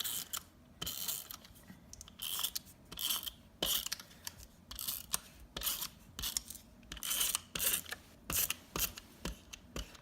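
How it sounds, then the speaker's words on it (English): Tape pulled and pressed down onto a planner page, a string of close, sharp tearing and rubbing bursts with brief quiet gaps in between. "I'm going to go ahead and tape this down real quick"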